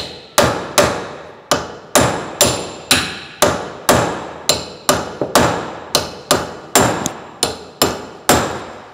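Sharp, ringing hammer blows strike metal in a steady rhythm, about two per second, each hit loud and close with a short clanging decay.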